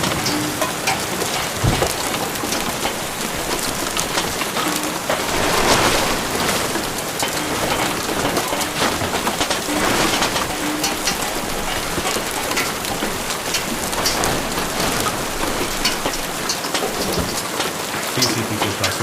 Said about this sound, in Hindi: फिर से बारिश होने लगी है।